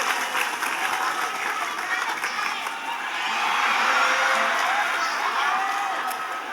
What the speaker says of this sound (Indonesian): Tepuk tangan dulu untuk Fahmi.